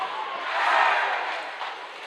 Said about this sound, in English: As the crowd comes to life